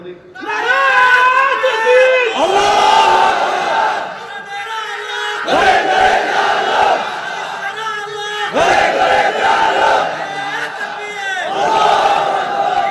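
A large crowd at a religious gathering shouts a takbir slogan in loud, repeated call-and-response bursts, a lead voice alternating with the massed roar of many voices.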